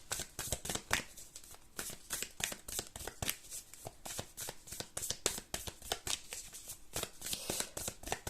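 Oracle cards shuffled by hand before a reading, a quick run of crisp riffling slaps repeating steadily throughout, close and fairly quiet with no talking.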